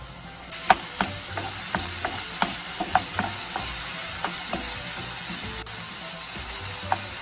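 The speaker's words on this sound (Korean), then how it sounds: "기름을 두른 뒤에 썰어두었던 야채를 볶아주세요" Chopped vegetables stir-frying in oil in a pan for tofu fried rice, with a continuous close sizzle and regular clacking stirs of a utensil, no talking.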